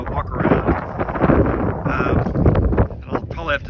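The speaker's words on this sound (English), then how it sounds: "you're probably going to hear some wind noise as I walk around" Outdoor wind buffets the microphone in gusts, a loud broadband rumble and roar that surges and dips, while a person talks over it as they walk around an off-grid property in early spring.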